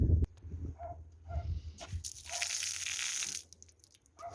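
Water runs from an opened tap in a vegetable garden in spring, a steady hissing stream of about a second and a half that stops abruptly, with faint scattered sounds before and after.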